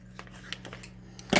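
Plastic packaging being torn open on larger-size specialty diamond art drill trays, a few soft crinkles and rustles building to a loud burst of tearing and crackling at the end, close by with no talking.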